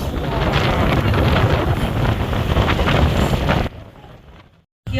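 Strong wind buffets the microphone aboard the sailing ship STS Kapitan Borchardt, a loud, constant roar that drops sharply near the end and briefly cuts to silence.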